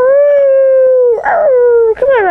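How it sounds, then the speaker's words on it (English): A dog lets out a long, loud, wavering howl close up, its pitch sliding and breaking into a second rising howl near the end. "Oh, come on, Rocky. Bark"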